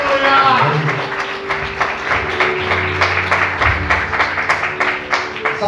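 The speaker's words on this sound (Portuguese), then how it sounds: "Vamos aplaudir Jesus." A church congregation claps in a loud, rhythmic, regular beat, with voices and singing or talk mixed in beneath the clapping.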